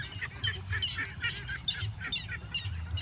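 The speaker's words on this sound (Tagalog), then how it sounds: "May tunog ng ibon dyan." In a rice paddy, ducks and other birds give a run of rapid, honking quacks, moderately faint and repeated in an uneven rhythm over a low background rumble.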